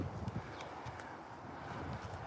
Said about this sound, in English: It's shaking the tree. It's pretty windy today